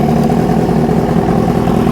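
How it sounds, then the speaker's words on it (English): A Yamaha R6 motorcycle engine idles steadily and loud nearby during a throttle body sync, a rapid even pulsing hum with no voices. "You'll hear it kind of idle down a little bit because I keep pushing on the screw."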